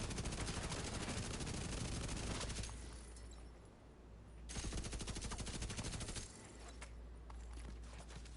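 Sustained automatic gunfire in The Division 2, rapid continuous bursts close and loud, pausing briefly then resuming in long rattling volleys.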